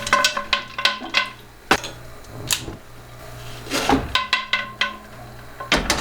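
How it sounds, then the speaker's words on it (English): Glass canning jars are set into a canner one after another, producing close, sharp clinks and ringing knocks in irregular bursts with short pauses between placements. "I'm gonna start loading my jars into the canner."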